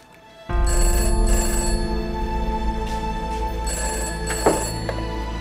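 A landline telephone rings loudly nearby in a steady electronic trill, continuing unbroken for several seconds indoors with a brief sharp knock partway through.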